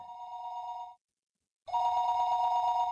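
A telephone rings in the Higurashi video game with a clear, steady electronic bell tone in two bursts separated by a short silence, loud and alone with no talk.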